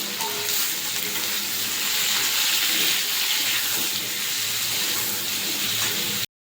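Taro frying in oil with a hilsa fish head, a dense, loud, continuous sizzle and crackle heard up close, steady throughout until it stops abruptly.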